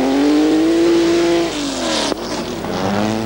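Racing cars in a two-wheel drive class roar past, one loud engine note holding then dropping away, followed by a sharp impact-like crack and another engine rising in the distance.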